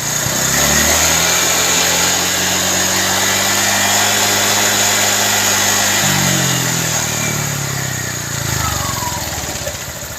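A Honda Vario 150 fuel-injected scooter engine runs and revs up close, a loud steady drone whose pitch drops and then climbs again near the end.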